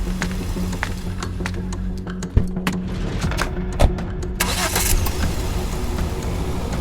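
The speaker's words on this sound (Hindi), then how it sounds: "काव्या को अपने साथ लेते ही उसने गाड़ी को सीधे हॉस्पिटल के रास्ते पर ले लिया।" A car drives along as a sound effect in an audio story, its engine running steadily with a couple of sharp clunks and a brief rise in noise near the end, no talking.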